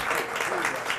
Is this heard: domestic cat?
no